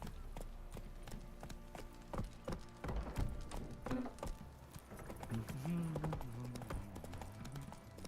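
Horse hooves clip-clop at a steady trot in The Witcher 3, with a whinny and some muffled game sounds mixed in.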